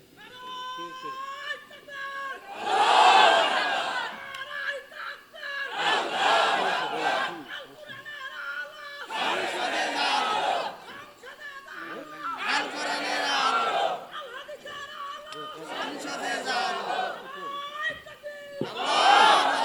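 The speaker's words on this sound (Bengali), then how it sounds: "দেখি আরেকজন তাকবীর দেন তো দেখি" A crowd at a Bangla religious sermon by a preacher answers with repeated loud takbir chants of Allahu Akbar, roaring in several separate bursts, with a voice leading between them.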